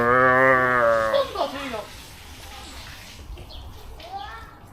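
A sheep or goat at a baby-animal petting farm in Daegwallyeong, Gangwon-do, lets out one loud, close bleat, followed by children and adults chattering over outdoor background noise.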